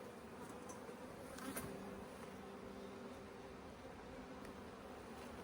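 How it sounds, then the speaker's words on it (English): Honeybees buzz steadily on a hive brood frame with freshly emerging young bees, a soft continuous drone with no talking. "this is a brood frame with freshly emerging bees in it"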